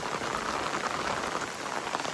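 Steady rain patters and hisses close by on a misty day at an old wada mansion, with an even, unbroken downpour and no other sounds.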